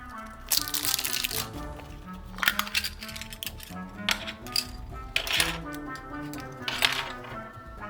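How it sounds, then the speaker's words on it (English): Plastic surprise eggs being cracked open and handled in children's pretend play, with a few sharp snaps and clattering rattles spread across the stretch, fairly close and alone. "Now, let's open all the eggs."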